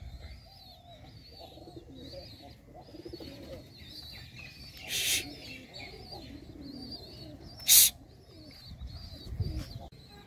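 Pigeons cooing near their squabs: low, soft, repeated coos from close birds over a quiet background, with a couple of brief sharp bursts of noise.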